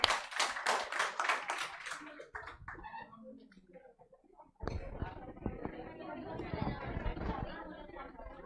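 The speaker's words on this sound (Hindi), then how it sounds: "एक बार जोरदार तालियां हो जाए सानिया एंड ग्रुप के लिए." A classroom claps for a student team during a CA class: a burst of quick, close hand claps for about two seconds, then scattered taps and chatter, before louder mixed clapping and voices return.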